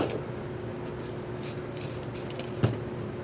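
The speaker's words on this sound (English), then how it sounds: "Throw some more of that clear coat on there." Aerosol clear coat sprayed in short hissing bursts over a steady background hum during space-themed spray paint art, with one sharp knock near the end.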